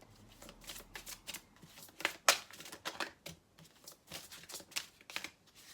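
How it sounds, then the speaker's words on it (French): Tarot cards being shuffled by hand, a series of quick riffling, slapping bursts at close range with brief pauses between, fairly quiet overall and with no talking. "On va piocher hein, si on n'a pas de carte qui saute."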